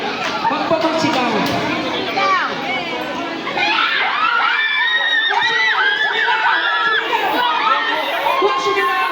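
Crowd of children and adults shouting and chattering loudly at a clan grand reunion, a dense, continuous roar of overlapping voices with occasional screams.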